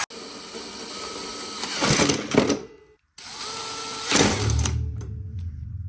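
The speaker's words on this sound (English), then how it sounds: "all that's left to do now is bolt the new elbow joints to the exoskeleton" A power tool drives bolts that fix new elbow joints onto a homemade exoskeleton suit. It runs close and loud in two bursts of whirring with a brief pause between them.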